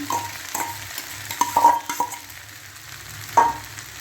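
Potatoes and onions frying with poppy seed paste, a soft sizzle broken by sharp scrapes and clacks of a spatula stirring against the pan, uneven and close.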